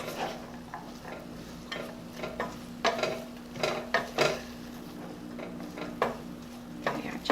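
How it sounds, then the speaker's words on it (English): A spoon stirs mushrooms and carrots sautéing in a pot for lentils, giving soft scraping and clinking against the pot in irregular strokes over a faint sizzle, close and fairly quiet. "We're just going to give this a good stir and allow this to get aromatic"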